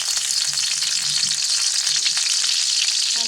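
Chopped green chillies fry in hot oil and butter, giving an even, loud sizzle that runs unbroken throughout, with no talking.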